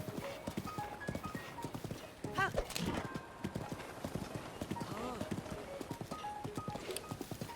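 Horse hooves clip-clop steadily through the Zelda: Breath of the Wild game world in rain, close and rhythmic, with a brief whinny partway through and a voice talking over much of it.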